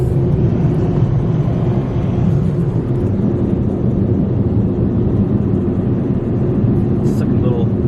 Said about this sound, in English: I love the sound of Ryko tires too.